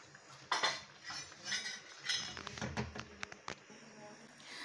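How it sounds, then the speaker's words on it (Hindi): Sooji halwa being served out of a pot into a dish, with scattered metal spoon scrapes and clinks against cookware, close and fairly quiet with background noise. "अब इसे हम डिश आउट करेंगे"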